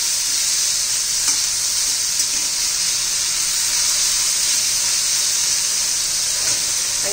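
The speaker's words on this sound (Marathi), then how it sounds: "पहिले तेलात चांगलं परतून घ्यायचं, चांगलं 2-1 मिनिट।" Bitter gourd (karela) sautéing in hot oil, a dense, loud, unbroken hissing sizzle with faint stirring scrapes underneath, steady throughout and close, without speech.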